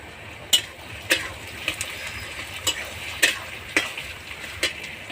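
Chopped tomatoes frying in a pan for mutton curry, a soft constant sizzle punctuated by regular sharp scraping knocks of a spoon against the pan.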